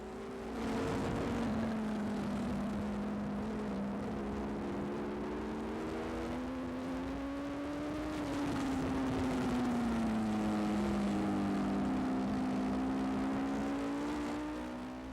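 A racing motorcycle screams around the infield section of Brainerd International Raceway, its engine howling steadily near the rider with pitch rising and falling through gear changes, loud and continuous.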